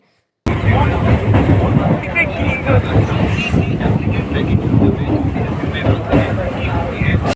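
Inside a moving local train, a steady, loud rumble and rattle of the carriage runs throughout, with voices talking over it.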